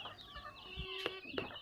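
Local village hens at a small backyard poultry farm cluck and chatter close by, with a few sharper squawks rising over a steady low murmur of the flock.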